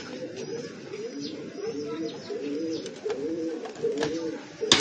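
Racing pigeons coo in soft, repeated throaty phrases, close by, with faint rustling and occasional clicks in the background, as they are loaded for a race in Bulalacao, Mindoro, Philippines.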